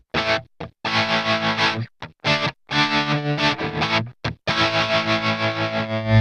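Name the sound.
electric guitar with distortion effect, Enya Nova Go Sonic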